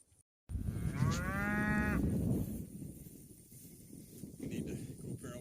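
Cattle mooing on June hay ground used for grazing: a single long, low moo rises out of a steady outdoor rumble, fairly close, and is followed by continuing field noise.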